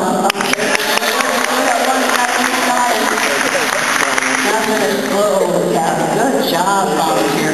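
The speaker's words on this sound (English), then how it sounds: "Nice round of applause." High school hypnosis show audience giving a round of applause for the volunteers, loud close clapping with cheers and voices mixed in, continuing steadily throughout.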